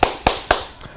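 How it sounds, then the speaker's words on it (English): Three or four sharp claps in a steady rhythm, loud and close, with the last one fainter, called for during a PDP political meeting in Tobago. "Somebody clap. Stand up and clap,"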